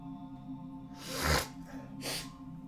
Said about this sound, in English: I've been sneezing all day, excuse me.